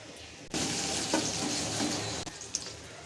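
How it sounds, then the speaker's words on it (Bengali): Garlic fries in a pan, a dense, even sizzle that starts abruptly and holds steady and fairly loud at close range, with a few faint clinks and pops, no talking. "এখন আমি রসুনটা একটু লাল লাল করে ভেজে নেওয়া পর্যন্ত অপেক্ষা করবো"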